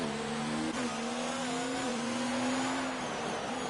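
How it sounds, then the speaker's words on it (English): A Formula 2 race car in a sim racing game on the Russia circuit, its engine a loud, steady high whine with harmonic tones that sag and rise, and a rough chatter as it rides over curbs. No voices. "You can hear the car chattering over those curbs."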